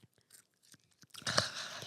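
Crunchy edible crickets being chewed close up, with quiet scattered mouth clicks giving way to a steady, louder crunching for the last stretch of the clip; no talking.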